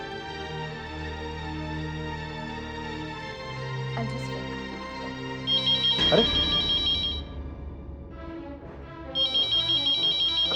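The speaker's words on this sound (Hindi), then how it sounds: "घंटी तो उसके बेडरूम में बज रही है।" A mobile phone ringtone plays steadily from a bedroom, with people talking over it and a short exclamation, the ringing continuing in repeated bursts.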